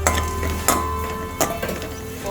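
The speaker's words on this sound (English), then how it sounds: "After ghee becomes hot, I am going to add the raisin into the ghee and" Raisins frying in hot ghee in a pan for a sago payasam, a steady soft sizzle with a few sharp clinks of a stirring spoon against the metal, close and clear.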